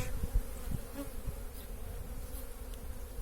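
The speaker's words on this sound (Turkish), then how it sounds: "Arı çok kalabalık." Honeybees hum in a crowded hive during a colony inspection, a close, continuous low drone with occasional louder buzzes of individual bees passing near.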